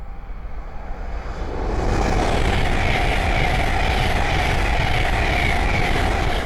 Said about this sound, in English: the next train to pass by is a Hull Train 800 going from, I believe, Edinburgh Waverley to London King's Cross